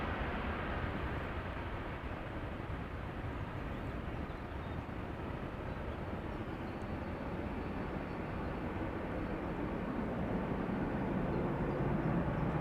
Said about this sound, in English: if there is one airplane that has engines that make a good sound when they take off, it is the A330-300.